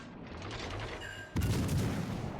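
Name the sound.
AP shell gunfire in World of Warships Legends, video game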